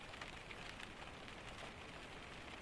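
Rain falls in a soft, even hiss, quiet and continuous with no distinct drops or voices standing out.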